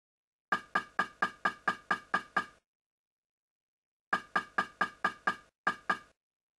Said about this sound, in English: By adding a short sound and setting it to trigger on collision, we can see that the hit may trigger multiple times.